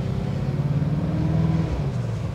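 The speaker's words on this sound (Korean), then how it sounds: "레이스 모드는 아까보다 이 엔진음이 좀 더 울리는 것 같아요" Mercedes-AMG GT63S V8 engine in race mode, a deep, resonant rumble heard from inside the cabin, steady and loud with a slight swell in pitch before easing back.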